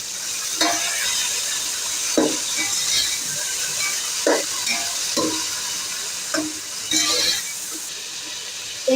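Three large chopped red tomatoes stir-fried in a pan for Lahori chargha biryani, a steady sizzle broken by repeated spoon scrapes and stirring knocks at irregular intervals, close and fairly loud, with no voices.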